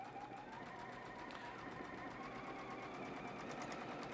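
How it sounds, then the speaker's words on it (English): A sewing machine stitches a quarter-inch seam on strips of fabric, its needle running in a fast, steady mechanical chatter, close and quiet, with no talking. "So I'm going to stitch on a 1/4 inch seam."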